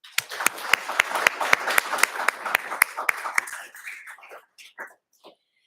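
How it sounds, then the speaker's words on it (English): A round of applause at an evening awards ceremony honours donors Lance and Elena, with sharp claps over a dense crowd wash that thins and fades out after about four seconds into a few scattered claps. "have a round of applause to thank Lance and Elena for their generosity"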